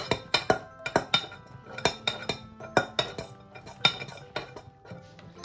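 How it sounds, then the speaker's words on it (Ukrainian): A metal spoon scrapes and clinks against a pot in quick, irregular strokes, close and clear, while thick cheese curd is stirred for homemade hard cheese. "Замішуємо сирок."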